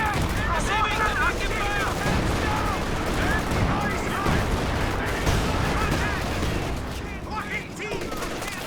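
Artillery and gunfire from a Company of Heroes 2 match, dense continuous crackling gunshots and distant booms filling the scene, with a voice talking over the busy battle noise.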